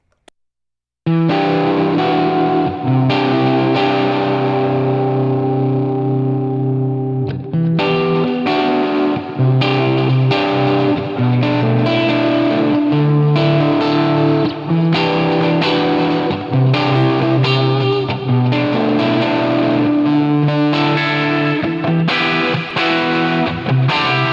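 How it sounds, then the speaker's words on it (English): Distorted electric guitar playing worship-style rhythm chords and riffs with a deep swirling modulation effect, loud and continuous after a brief silent start. "Add more depth on the modulation there so it really comes out."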